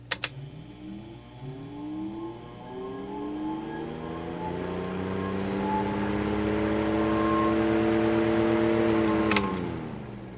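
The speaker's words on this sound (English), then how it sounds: "We'll do a startup on medium." A vintage restored Vornado window fan starts up on medium, its motor hum rising steadily in pitch as the blades spin up, loud and close, after a couple of switch clicks and with another click near the end.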